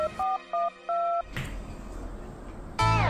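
Telephone keypad tones beep in a quick series as a number is dialed, followed by a hiss of line noise and then a loud ringback or connection tone at the end, with no talking.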